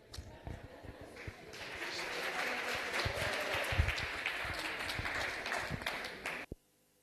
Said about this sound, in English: let's give Mr. SPL another round of applause